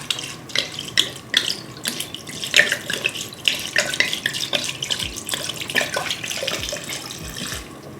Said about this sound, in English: Crack her open, and we're gonna pour the whole thing in.